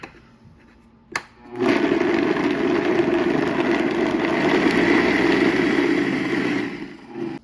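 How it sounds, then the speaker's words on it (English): A blender whirs loudly and steadily for about six seconds, chopping and mixing homemade gyro meat ingredients, starting after a short click and quiet lead-in, with no talk over it. "blend this up"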